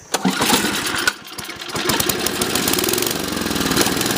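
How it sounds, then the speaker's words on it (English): A Sears snowblower's small engine cranks and catches on choke after sitting for several minutes, sputtering and knocking unevenly before settling into a loud, rough, steady idle close to the mic. "So I'll go ahead and fire it up here for you and see how it starts up and acts."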